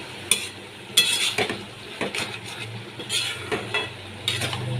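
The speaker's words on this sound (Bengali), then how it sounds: "ভালো করে মিশিয়ে নিচ্ছি" A utensil stirs hilsa fish head and ash gourd cooked without water in a pan. It gives repeated scraping strokes with light metallic clinks over a soft, continuous sizzle, heard up close.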